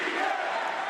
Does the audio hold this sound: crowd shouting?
yes